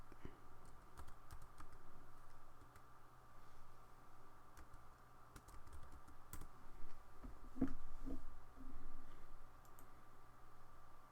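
A computer keyboard is typed on while modeling in AutoCAD, with scattered soft key clicks and taps over a faint steady hum, fairly quiet and close.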